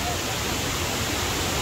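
The Kuang Si waterfall in Luang Prabang, Laos, gives off a loud, dense, unbroken roar of falling water heard close up, filling the whole stretch.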